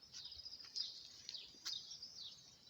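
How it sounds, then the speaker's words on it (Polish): Small birds chirp outdoors on a sunny summer day, a soft, bright twittering with a few sharper calls, fairly distant and with no voices. "ptaszki ćwierkają"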